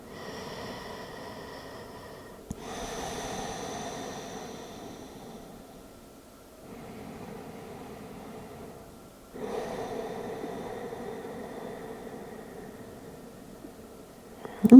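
A person breathes slowly and deeply during a yoga session. Long, soft, airy inhales and exhales alternate in a calm rhythm, close and fairly quiet, with no talking.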